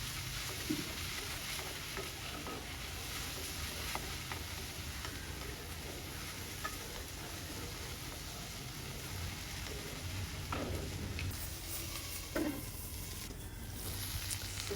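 Tomatoes and green chilies sautéing in a pan for kathirikai kuzhambu, a soft steady sizzle with occasional light spatula scrapes, quiet and continuous without voices.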